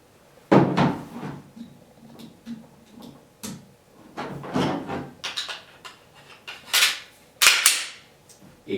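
A Walther P99 pistol is reassembled by hand, giving a series of sharp metallic clicks and snaps spaced irregularly, with quieter sliding and handling sounds between them, close and without talk.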